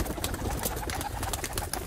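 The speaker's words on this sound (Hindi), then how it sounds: "देखो इस कबूतर नूं" A Sialkoti pigeon coos softly in short repeated calls at close range, with some faint background noise around it.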